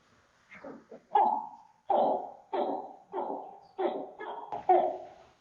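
A person mimics baby alligator calls with a series of about six short, nasal grunting chirps, evenly spaced and close, with no other sound.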